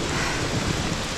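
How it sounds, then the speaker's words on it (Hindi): Heavy rain suddenly pours on a mountainside by the second entrance of a cave, a loud, dense, unbroken roar of falling water filling the whole moment. "यहां पहुंचते ही अचानक तेज बारिश शुरू हो गई।"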